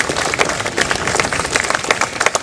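Audience applause at a cemetery memorial dedication ceremony, a short burst of dense, lively clapping from a gathered crowd, loud and close, with no speech over it.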